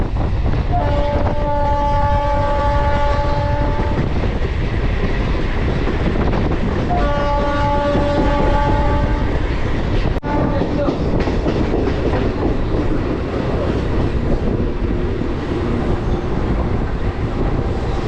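A local train on the Sealdah to Mayapur line pulls out of Barrackpore, its loud steady rumble and rattle filling the carriage throughout, with long horn blasts sounding twice near the start.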